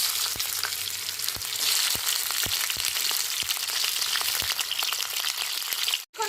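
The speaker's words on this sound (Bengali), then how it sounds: "এবার কুদ্রগুলো দিয়ে খানিক্ষণ ভেজে নেব" Ivy gourd (kundru) frying in mustard oil with nigella seeds, a steady close sizzle with regular soft clicks of a spatula against the pan, then a brief dip near the end.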